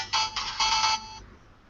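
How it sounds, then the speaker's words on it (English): A phone ringtone plays a bright electronic melody in three quick bursts lasting about a second, then stops abruptly, loud and close with no talk over it. "Sorry, that was my phone."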